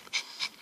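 A dog pants in quick, close, airy huffs, two or three rapid breaths in under a second.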